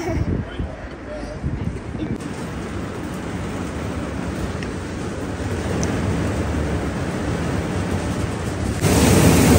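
Strong wind gusts buffet a bus in the UK, a steady roaring rush that grows louder toward the end, with someone talking over it at times.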